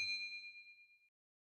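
A single bright bell-like ding of a subscribe notification bell, ringing out clearly on its own and decaying smoothly over about a second.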